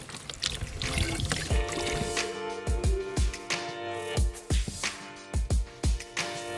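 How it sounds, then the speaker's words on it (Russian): Clean spring water pouring into a bottle outdoors near a village, a steady trickling gurgle with repeated glugging bursts as the bottle fills, close and fairly loud, no talking. "И наполняем водой."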